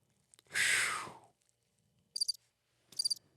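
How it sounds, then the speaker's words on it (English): A brief burst of noise gives way to two short, bright cricket chirps in near silence, spaced about a second apart. "Crickets."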